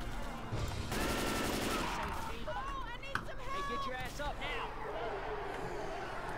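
Rapid gunfire bursts in the zombie shooter Left 4 Dead 2, loud and chaotic, mixed with growls, shouting and game noise throughout.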